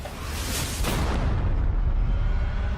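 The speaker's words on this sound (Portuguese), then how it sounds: "2 balas de canhão acorrentadas." Ship's cannon fires chained cannonballs in a naval battle, a dense rumbling boom that swells and holds as a heavy, sustained low roar through the clip, with no clear separate shots.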